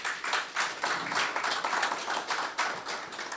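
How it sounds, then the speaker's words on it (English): Audience applauding at a panel discussion on nuclear power generation in Africa, a steady dense roll of clapping that holds for several seconds without any voices. "a round of applause for her"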